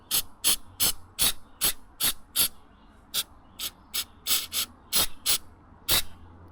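An aerosol can sprays sealant into cracks and holes on a cabin exterior in about fifteen short, sharp hissing bursts, close and evenly spaced, with quiet gaps between them and no one speaking.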